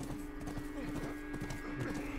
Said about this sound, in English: You can't stop Ellie riding on a horse.